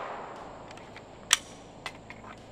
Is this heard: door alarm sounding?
no